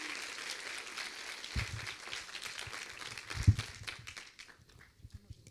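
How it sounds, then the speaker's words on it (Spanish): Applause at a teaching panel on hybrid learning models, light scattered clapping from a modest audience that thins out and trails off into a few isolated claps. "brindemos un fuerte aplauso al trabajo"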